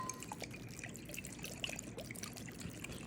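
Vinegar trickles and drips into a crawfish and pork dumpling filling, a soft, steady watery pour running close by for a few seconds with no talking.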